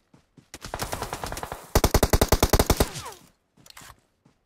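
Automatic gunfire in a shooter video game, loud and close: a long rapid burst, then a sharper second burst, followed by a short spatter of shots after a pause.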